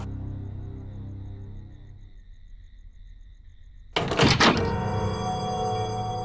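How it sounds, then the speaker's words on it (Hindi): A door shuts with a single solid thunk partway through, after a quiet stretch of low room tone, followed by a lingering resonant ring in a dramatic TV scene. "दरवाजा बंद कर दो।"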